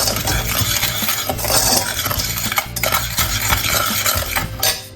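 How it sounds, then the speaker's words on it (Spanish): A spoon stirs cake mixture in a bowl, giving quick, continuous scraping and clinking against the bowl's sides, close and fairly loud, with no talking. "Mezclamos un poquito bien."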